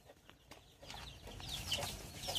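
Backyard chickens clucking, with short calls and a few higher squawks rising in loudness toward the end, close, over outdoor background noise.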